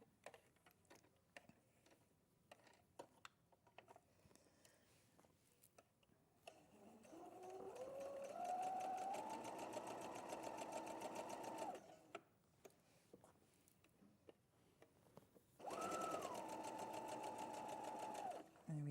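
A domestic sewing machine stitches down the side seam of a dress in two bursts of rapid, steady whirring, the first about five seconds long and the second shorter, separated by quiet handling sounds and light clicks.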